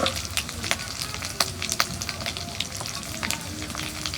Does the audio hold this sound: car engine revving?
no